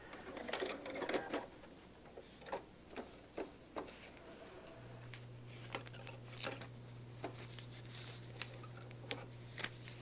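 Sewing machine backstitching at the edge of curved paper-pieced quilt units: a steady motor hum runs from midway on, with scattered ticks and soft clicks from handling the fabric and paper before and around it.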